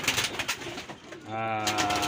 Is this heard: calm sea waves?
no